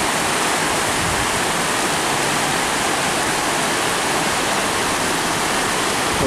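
A clear river on the Izu Peninsula near Shuzenji, Japan, rushes steadily, giving a loud, dense, unbroken wash of flowing water from start to end.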